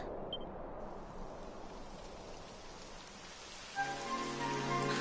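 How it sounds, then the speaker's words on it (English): Steady rain patters in Dragon Quest XI S, a dense hiss of drops, joined near the end by a soft melodic chime layered over the downpour. "It would have to go and start raining, wouldn't it?"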